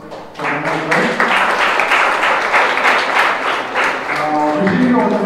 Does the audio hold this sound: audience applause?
yes